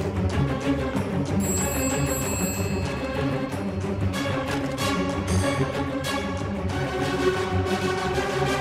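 A telephone rings in a Hindi-dubbed film scene, its bright repeating electronic trill cutting over a dense, busy soundtrack of music and background noise that continues throughout.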